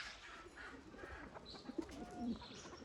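Pigeons coo softly in a few brief throaty calls, faint and fairly close, over a low hum of background noise.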